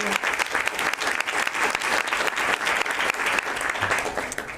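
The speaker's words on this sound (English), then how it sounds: "we should all give the staff at Salem Housing Authority a round of applause for their work at Yaquina Hall" Steady applause from a council meeting audience, many hands clapping continuously at close range with no break.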